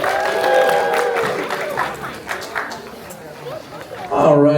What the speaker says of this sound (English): Round of applause for Delaney!